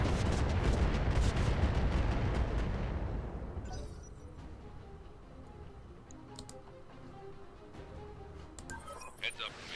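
Gunfire in the video game Roguepoint: a dense burst of rapid shots in the first few seconds, then scattered sharp reports and ticks fade to a quieter scene as voices talk over it.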